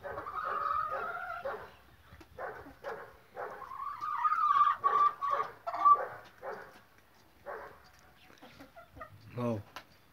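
Chickens at a small poultry farm clucking in short repeated bursts, moderately near, with a few longer squawks and a brief bark-like call near the end.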